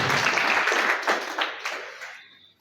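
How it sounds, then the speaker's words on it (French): An audience claps for a sub-prefect at a community dialogue gathering in Keur Massar. The applause starts full and dense, then thins and fades to silence over under three seconds. "Nous applaudissons le sous-préfet bu baax monsieur le"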